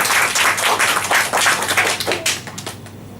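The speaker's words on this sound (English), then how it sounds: "Give her another round of applause." Audience applause fills a Toastmasters meeting room, a dense wash of many hands clapping at steady volume that thins and trails off toward the end.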